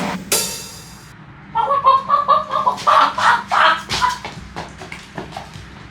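A chicken clucks in a quick run of rhythmic bursts, loud and close, after an opening sharp noise, with no talking.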